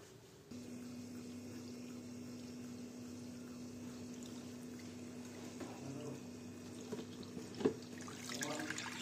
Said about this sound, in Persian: یکم آب میزنیم بهش، آب از روش رد میکنیم